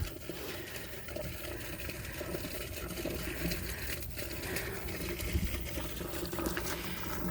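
Water from a flowing well near Chequamegon Bay at an RV park, a steady close trickling and pouring with a wind-buffeted outdoor hiss and a few small splashes.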